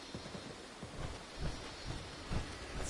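Steady rain in the video game Fallout 76 hissing with low rumbling thumps, moderately quiet and continuous, no voices.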